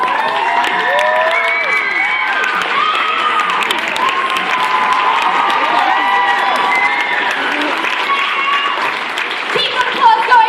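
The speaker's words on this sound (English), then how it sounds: "Keep the applause going as they leave the stage." Sustained audience applause with cheering and whistles fills a cosplay stage show at Goldnova 2018, loud and steady throughout while a presenter talks over it.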